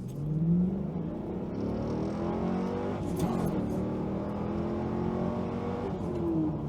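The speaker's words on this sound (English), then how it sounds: "this is 0 to 60 run number 1 in the Firebird" A 2002 Pontiac Firebird Firehawk runs 0 to 60 with traction control off on textured pavement, heard from inside: a loud engine roar climbing steadily in pitch as it pulls hard and continuously.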